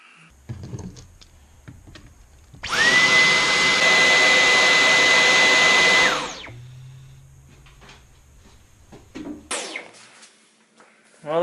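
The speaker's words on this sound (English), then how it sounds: "that's a sound you might be hearing more often than you thought if you bought a Dyson V11" A Dyson V11 cordless vacuum cleaner whirs up with a sharp, steady high whine for about three seconds, then cuts off; quieter handling noises surround it, with a short rattle near the end.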